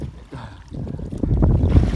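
Wind blowing by the water in a steady low rush that buffets the microphone and grows louder toward the end, with no talk.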